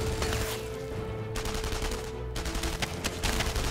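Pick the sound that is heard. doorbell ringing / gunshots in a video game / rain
gunshots in a video game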